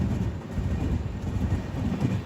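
Aboard the moving Jhelum Express, a dense low rumble fills the carriage with a faint rhythmic rolling beat, steady and continuous with no voices.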